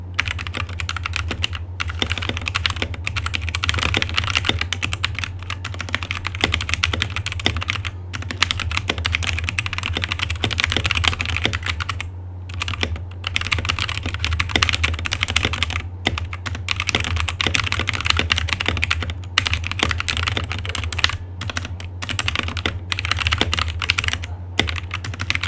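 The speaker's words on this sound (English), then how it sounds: "the keyboard sound test" Steady computer keyboard typing picked up by a FiFine K678 budget microphone, with fast continuous key clatter close to the mic and short pauses, over a constant low hum, with no voices.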